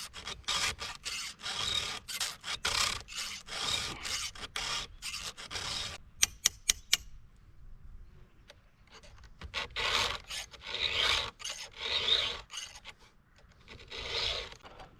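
Hand file sharpening the chain of a Stihl MS 462C chainsaw out in the field, repeated rasping strokes in steady runs, with a pause and a few sharp clicks midway before the filing resumes.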